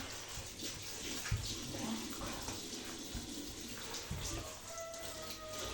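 Hot water runs steadily from a tap in a home kitchen, a quiet continuous splash and trickle with a few small knocks and clinks under it, and no speech.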